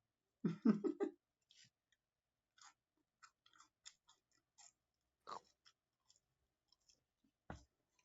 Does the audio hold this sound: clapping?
no